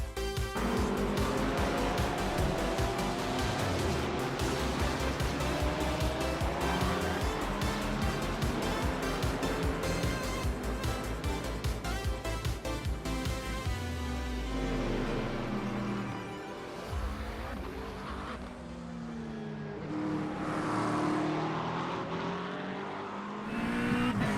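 A GT3 race car exits the pit lane at the Nürburgring Nordschleife in a racing game, its engine droning loud and steady through rising and falling revs and gear shifts, with other cars audible around it and no talking.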